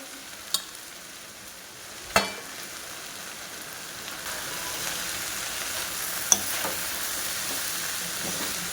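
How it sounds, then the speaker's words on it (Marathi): Jowar hakka noodles tossed and flipped in a hot sizzling pan, giving a steady close frying hiss with a few sharp scraping clicks of the utensil against the pan. "आणि अशा प्रकारे छानपैकी पलटून घेणार आहोत, उलट पुलट करून घेणार आहोत."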